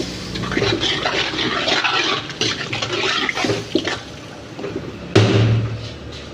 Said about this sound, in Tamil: தண்ணி கொஞ்சம் கூட ஊற்றிட்டு கொஞ்சம் நல்லா கொதிக்க விடுவோம்.